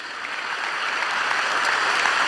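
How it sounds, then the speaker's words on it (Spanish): A church congregation claps in praise of Jesus: dense, steady applause filling the room, holding even and slightly building for a couple of seconds, with no voices over it. "alabe a Jesús si quiere hacerlo con ese aplauso y dele gloria al Señor."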